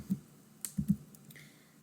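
Keys click on a computer keyboard while HTML code is typed: a handful of separate, fairly quiet taps spaced irregularly over a quiet room.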